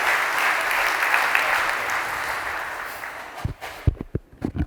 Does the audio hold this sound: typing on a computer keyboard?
no